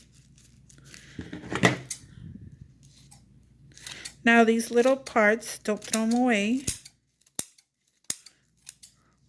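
Sharp scissor snips cutting tissue paper, a few quick cuts near the start, then a voice talks, followed by several isolated crisp snips.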